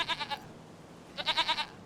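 Sheep bleat in the video game Farming Simulator 25: two short, wavering, nasal bleats, close and clear, separated by a pause of quiet ambience.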